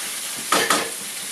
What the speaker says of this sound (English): We're going to deglaze the pan a little bit,